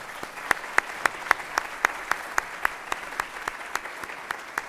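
Audience claps for departing speakers at a contract-law lecture, a thin, fairly sparse applause with distinct sharp individual claps in a steady rhythm, moderately near.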